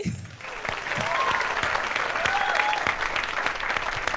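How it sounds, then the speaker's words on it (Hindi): A studio audience at a comedy show breaks into steady, sustained applause that fills the room at a close, even level, with a few brief vocal tones mixed in. "एक ताली हो जाए"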